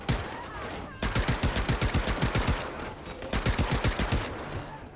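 Rapid automatic gunfire rattles in two long, loud bursts separated by a short gap in the video game Paint the Town Red, with no voices.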